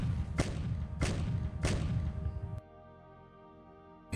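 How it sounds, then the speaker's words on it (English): Three heavy thuds land about half a second apart from an artillery bombardment in the wargame Decisive Campaigns: Ardennes Offensive. After them comes a quiet, faintly humming stretch that ends in a small click. "just bombard him"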